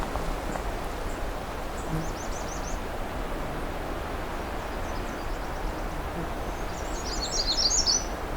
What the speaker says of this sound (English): So we've got a magnolia warbler close up here.